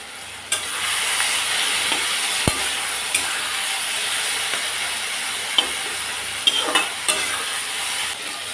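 Vegetables frying in a pan with turmeric and salt, a steady close hissing sizzle with a few sharp spatula knocks and scrapes scattered through, no voices.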